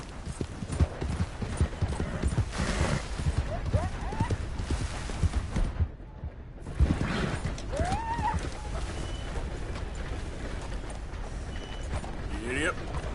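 Horse hooves clip-clop steadily during a ride in a video game, a close rhythmic trotting under a voice, with a brief break before the hoofbeats resume.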